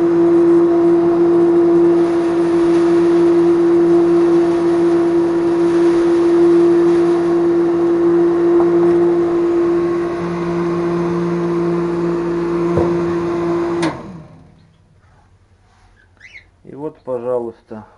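An electric grain-mixture winnowing machine runs with a loud, steady motor hum and whir for about fourteen seconds, then cuts off abruptly, leaving a brief quiet with a few faint sounds and short voice-like bursts at the end.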